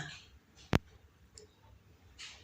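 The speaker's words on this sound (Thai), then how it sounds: "เรามาคลิกตรงโปรโมทตรงนี้นะคะ" One sharp, loud mouse click stands out against quiet room tone as the promote button is pressed in TikTok, followed by a fainter tick and soft rustling.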